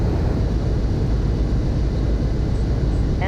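Light aircraft engine roars as a steady, loud, broadband drone during takeoff from runway 7, with no voices.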